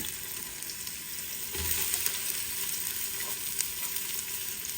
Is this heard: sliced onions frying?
yes